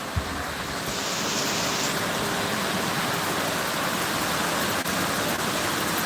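Rain falls steadily outdoors beside a stone wall, a loud, dense, even hiss that continues unbroken throughout with no voices.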